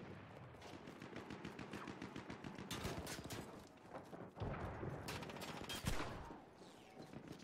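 Rapid bursts of machine gun fire in a war video game, several rattling volleys with sharp individual shots, loud and close, broken by short pauses and overlapping blasts.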